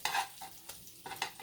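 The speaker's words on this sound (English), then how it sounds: "I'm going to put just a little bit of butter under here just to make sure it's cooking but not burning." Butter sizzling under French toast in a hot pan, a soft close crackle with brief stirring or scraping scuffs, with no talk.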